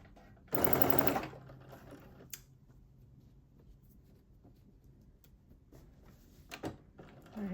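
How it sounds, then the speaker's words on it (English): A sewing machine stitches a sweatshirt sleeve in one loud, close burst of about half a second, then stops, leaving quiet room tone with a few faint clicks. "So now we're going to stitch our sleeve."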